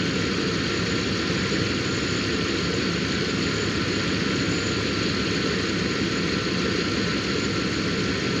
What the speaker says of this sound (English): So now with the engine running